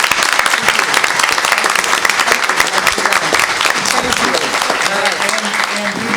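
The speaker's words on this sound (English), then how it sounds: "This applause is for you." Applause from the audience at a candidates' night in Chillicothe, loud, dense and sustained clapping throughout.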